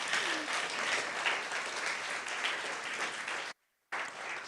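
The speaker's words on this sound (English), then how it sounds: "Applause." Conference audience applauds an award winner, an even wash of many hands clapping, fairly soft and distant, briefly cut to silence before resuming.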